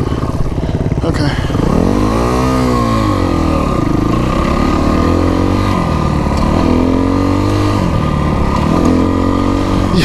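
A Kawasaki KX motocross bike ridden fast at Jewell MX park, its engine loud and close with rising and falling revs through repeated throttle pulls, a rider briefly shouting over it.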